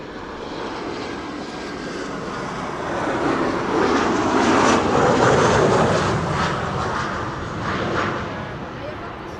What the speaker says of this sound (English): you can clearly begin to hear the engines of the 747. She is getting closer.